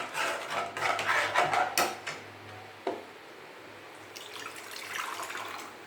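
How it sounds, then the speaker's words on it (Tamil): Water splashes and trickles into a cooking pot of vegetables at close range, a fairly quiet pour with clinks of metal and kitchen clatter around it. "கொஞ்சம் தண்ணி விட்டு கொதிக்க வேக விடணும்."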